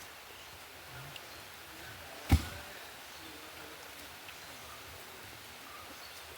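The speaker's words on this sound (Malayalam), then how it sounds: "ചെറിയൊരു മഴ ഉണ്ട്." Light rain falling outdoors as a faint, steady hiss, with one sharp knock partway through.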